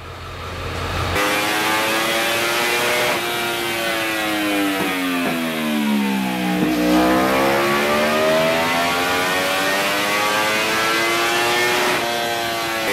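A rebuilt Yamaha YZF-R1 endurance roadrace motorcycle engine revs hard and sustained on a dyno, its pitch sweeping up and down through long pulls, loud and close with no talking.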